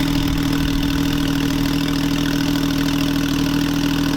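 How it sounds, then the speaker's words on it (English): A warmed-up Porsche 911 Carrera T (991.2) engine idles steadily and close by, a deep throaty rumble holding constant with no revving. "Now it sounds like a Porsche."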